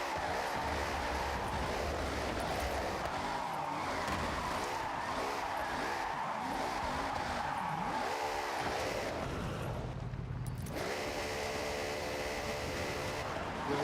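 A car in a racing video game drives hard with traction control turned off, its engine droning steadily as tires squeal and skid; near the end the engine note drops and shifts, loud and continuous throughout.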